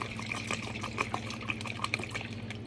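Liquid pouring steadily with soft trickling and splashing over a low constant hum, close by, with no voices.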